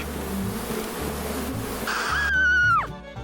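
Bees from a disturbed hive buzz angrily and loudly at close range. A sharp whining buzz rises then swoops down as it passes by. No one speaks.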